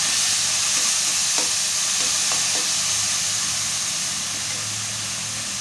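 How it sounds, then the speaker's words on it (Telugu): Masala cooks in a pan under a dense, steady sizzle while a few light scraping strokes of stirring come through, close and loud with no voices. "ఒకసారి కలిపేసుకుందామండి మంచిగా."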